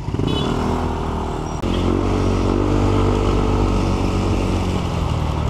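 A stock-engined Yamaha Aerox scooter fitted with a power pipe exhaust revs hard and close, its high buzzing drone holding steady with a brief dip and a jump back up to full revs.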